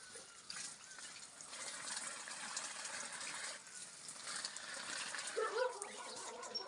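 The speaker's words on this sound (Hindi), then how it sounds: "ये गोभी के खेतों में डाल रहा हूँ।" Irrigation water gushes steadily into cabbage fields in a hill village near Almora, Uttarakhand, a continuous broadband rush of flowing water that swells slightly toward the end.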